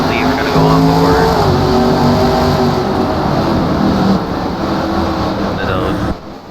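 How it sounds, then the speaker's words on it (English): Souped-up stock car engines racing at Sonoma, with loud sustained engine drone and shifting tones as cars pass close by, under a race commentator's voice. "They sound just like our American stock cars."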